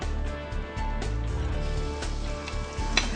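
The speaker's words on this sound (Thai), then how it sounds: "ผัดผัดจนเนื้อหมูสุกอะค่ะ" Pork stir-frying in about a tablespoon of oil in a pan over low to medium heat, a steady close sizzle with occasional stirring scrapes, no talking.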